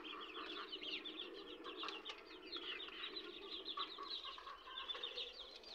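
Domestic laying hens on a farm, several birds clucking and chattering continuously at a moderate distance, with faint wing flutters mixed in.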